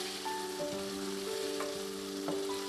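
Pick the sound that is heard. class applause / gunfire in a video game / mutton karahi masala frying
mutton karahi masala frying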